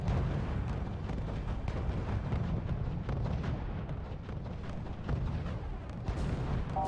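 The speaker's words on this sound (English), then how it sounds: "mobile artillery are preparing to fire on the city" Mobile artillery fires during a R.U.S.E. video game mission, a dense, continuous low rumble of distant booming barrages rolling on without pause, loud and heavy throughout.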